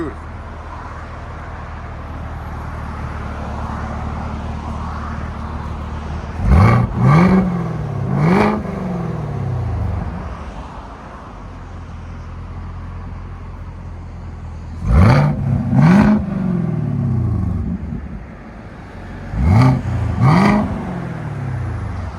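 A 2018 Chevy Camaro ZL1 with a supercharged V8 and high-flow cats, idling with a deep steady rumble, then revved sharply in three separate sets of quick double or triple blips, loud and close outside the car.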